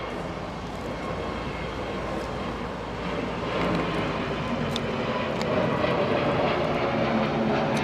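A Virgin airliner at London Heathrow Airport, a steady broad jet engine roar holding at moderate loudness and swelling slightly toward the end, with no speech.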